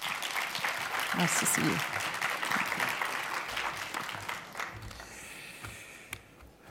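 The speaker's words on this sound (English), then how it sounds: "A warm round of applause, please." Audience applause fills an evening award ceremony, a dense steady clatter of many hands that swells and then fades, with a voice briefly greeting someone over it near the end.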